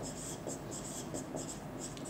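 A teacher writes on a board during an electrostatics lesson, giving short, quiet scratchy strokes in an uneven rhythm over faint room tone, with no talk over it.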